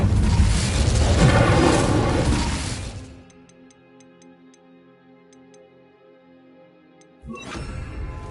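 A fire spell cast in Hogwarts Legacy: a loud roaring burst lasting about three seconds, then a quiet stretch with faint ticking, and another burst of noise near the end.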